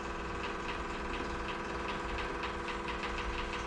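A Toyota's own electric fuel pump, wired to a power source, drains the fuel tank with a steady mechanical hum and rapid buzzing pulses, low and continuous with no speech.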